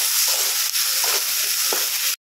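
Poppy seeds fry in a pan with a loud, steady, close hiss, broken by three short scraping stirs.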